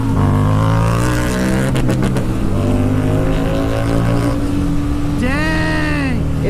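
Vulcan 650S and Harley Street 750 motorcycles pulling away hard together, loud engine drone rising in pitch through shorter gears with a rev sweep near the end, voices talking over the noise.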